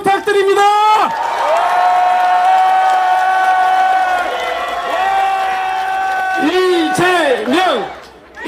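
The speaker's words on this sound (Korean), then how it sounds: "큰 격려의 박수" A large crowd at an outdoor political rally protesting contaminated water discharge in Mokpo cheers and shouts loudly, with long sustained voiced calls over a bed of clapping that swells again near the end.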